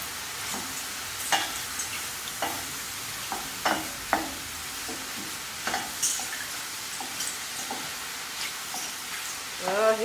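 Mushrooms fry in a very hot stir-fry pan, a steady background sizzle broken by sharp crackles and the scrape of stirring, close and moderately quiet with no talking.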